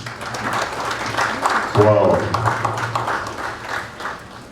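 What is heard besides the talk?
applause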